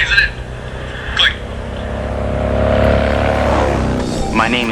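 Cars whiz past at the roadside, one loud vehicle building and fading close by over a few seconds, with gusty rumble and brief noisy bursts around it.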